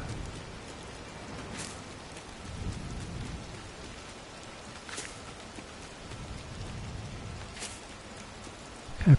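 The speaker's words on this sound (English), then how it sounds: "And it's thundering again too." Thunder rumbles and steady rain fall in the Disney Dreamlight Valley video game, a constant wash of rainfall broken by several low rolling thunder swells, with no talking.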